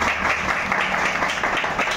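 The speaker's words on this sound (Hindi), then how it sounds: "तो राय साहब के लिए जोरदार तालियां होगी।" A business event audience gives a burst of hearty applause for a startup speaker's guest, a thick continuous clatter of many hands that stays level over its short span.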